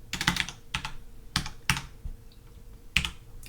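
Close, crisp keystrokes on a computer keyboard, typing an Excel COUNTIF formula: irregular quick clusters of clicks with short pauses between them, and no talking.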